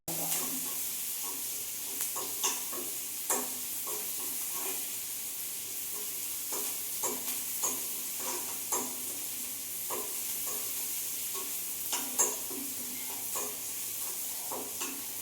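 Small onions being sautéed in a pan, a soft steady sizzle under frequent spatula scrapes and clinks that come in irregular bursts, nearby and without speech.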